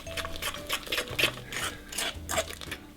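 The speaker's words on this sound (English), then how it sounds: "Then I'm going to just mix this in." Plantain fritter batter being mixed in a bowl, giving a steady rubbing, scraping stir with soft repeated strokes, close and moderately loud, no talking.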